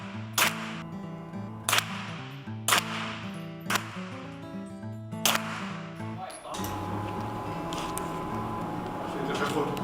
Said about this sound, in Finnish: Ammu sinne yksi laukaus.